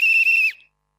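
A whistle linked to a village kabaddi champion gives one loud, sharp blast lasting about half a second with a slight warble before it cuts off abruptly into silence.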